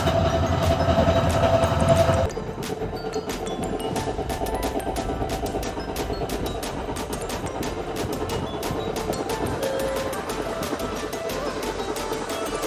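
A train runs along rails on a journey toward the hills near Kainchi Dham, with a steady rumble and rapid rhythmic clickety-clack of wheels over joints, heard from inside, continuous throughout.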